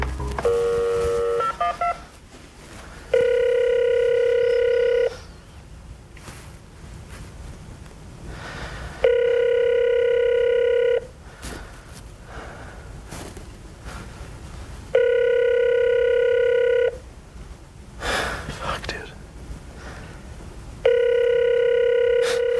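Repeated telephone call tones come through in steady bursts of roughly two seconds, spaced evenly apart, with noisy shuffling and clicks between them; no one speaks.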